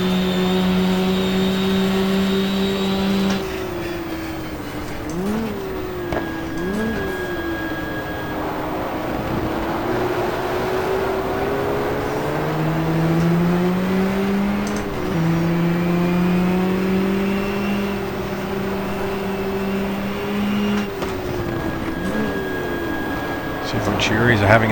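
Venturi race cars in GTR2 at Jarama drone and rev continuously, engine notes rising and falling through gear changes as several cars run close together, with a commentator talking over them throughout.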